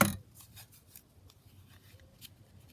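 Scissors snipping decorative paper for a lapbook, a quiet run of small crisp cuts after one louder opening rustle, close by, with no talking.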